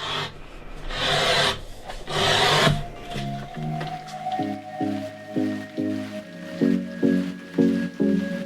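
A blade trims a thin edge off the paper pages of a handmade journal with a few close, rasping scrapes, followed by gentle melodic music.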